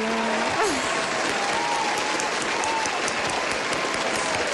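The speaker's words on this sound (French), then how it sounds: "On applaudit Axel" An audience gives a standing ovation for filmmaker Axelle, a broad continuous roar of clapping that stays loud and level throughout, with a faint whistle-like tone near the start.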